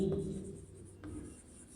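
A pen writes the answer to a maths exercise on paper, a couple of faint, short scratching strokes, quiet and close, with no talking during them.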